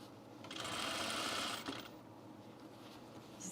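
A sewing machine stitches a blazer in one brief burst of about a second, quiet and close, then stops.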